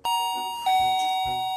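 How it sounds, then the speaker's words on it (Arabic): A two-tone ding-dong doorbell rings loud and clear in a home, its bright chimes sustaining over faint background sounds. "مين عم بدق الجرس؟"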